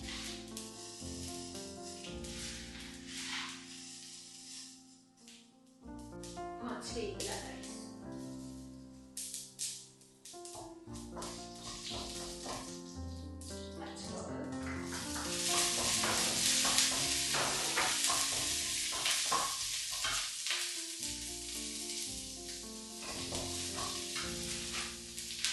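Mustard seeds and urad dal frying in a pan for a thoran, a continuous crackling sizzle with sharp popping spatters that grows denser and louder partway through, heard close up over background music.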